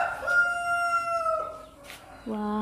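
A rooster crows loudly and close by in one long harmonic call, then starts a second crow just before the end, with no talking.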